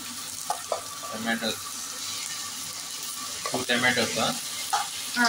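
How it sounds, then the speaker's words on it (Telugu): Green chillies and tomatoes fry in a hot pan with a steady sizzle, broken by bursts of stirring and scraping from a spoon, close and moderately loud, with faint talk in the background. "పచ్చిమిరపకాయలు, టమాటోస్ వేసుకోవాలి."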